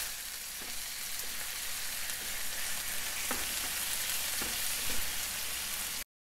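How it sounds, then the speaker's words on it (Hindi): Pieces of chicken, cut small, sizzle steadily in hot oil in a pan, a dense continuous frying hiss with a few faint clicks of stirring, fairly close and with no voices. "तेल गर्म होने के बाद हम इसमें चिकन डालेंगे।"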